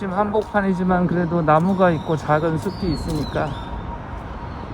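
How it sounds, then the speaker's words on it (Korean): Small birds chirp and call in a patch of urban forest in central Seoul, faint high notes heard under a man's close, continuous talking. "역시 새소리가 들리네요."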